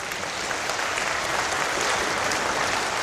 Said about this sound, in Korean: 우리 공부를 해서 박수 한번 쳐